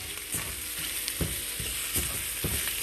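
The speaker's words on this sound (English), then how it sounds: "So now, we're just scrambling the egg." Egg scrambling in a frying pan, a steady close sizzle with short scraping stirs of a utensil every half second or so, no voices.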